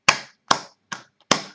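Four sharp, separate claps in a slow, even rhythm about 0.4 seconds apart, each ending in a short ring-out. No voices. It sounds like a few hands clapping at a religious testimony gathering.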